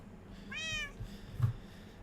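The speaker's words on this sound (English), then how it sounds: "These cats move around from time to time when they're sitting down." A single cat meows in the video game Feed my Beast, one drawn-out, tonal cry lasting about half a second, followed by a soft thump against a quiet background.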